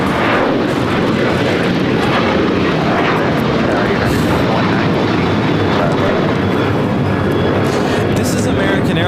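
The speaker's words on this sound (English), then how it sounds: "This is American Airlines Flight 565 taking off to Puerto Vallarta on a 737-800" An American Airlines Boeing 737-800 departs from LAX, its jet engines producing a loud, continuous broadband roar that fills the whole span, with voices faintly underneath.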